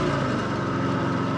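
A 1954 Harley-Davidson FH 750 motorcycle engine runs steadily and close by, shifting through its gears with a thick, continuous low rumble and no pauses.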